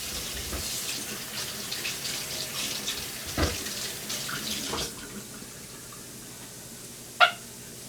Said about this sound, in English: Let me rinse my hand out real quick